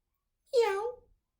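A single drawn-out meow, close and clear, comes from a voice imitating a cat during a children's story and is surrounded by silence.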